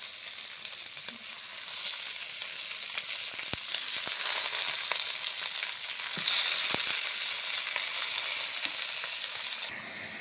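Mutton pieces frying in oil with onion, garlic and green chilli, a continuous close sizzle broken by occasional stirring clicks and a brief louder surge near the end.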